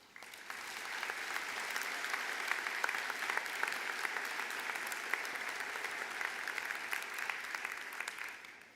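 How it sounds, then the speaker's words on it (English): A graduation commencement audience applauds steadily for several seconds, a dense, even wash of clapping that holds at full strength and then tapers off. "Let's please give them a quick round of applause."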